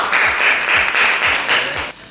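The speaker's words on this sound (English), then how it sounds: "Give a round of applause for Miss Indah Harawati." An audience at an MC school event in Surabaya applauds, a dense, steady wash of clapping from many hands, close and loud, that fades out near the end.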